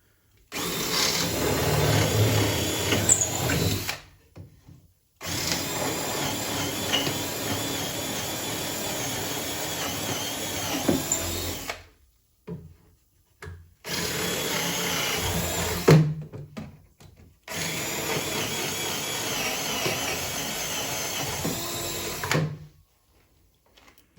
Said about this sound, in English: Next thing I'm going to do is drill out these holes.